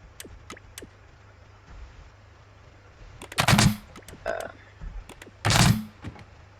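A tank gun fires in Scrap Mechanic with a few loud, sharp blasts spaced a second or two apart, mixed with fainter clicks and snaps. A low hum runs underneath.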